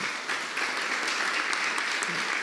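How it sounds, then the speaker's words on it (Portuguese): Audience applause for the event team at a talk on mobility policy and new technologies, steady dense clapping from a room full of people at moderate, fairly distant level, sustained throughout with no voices on top. "bater uma salva de palmas para todo mundo que fez o evento"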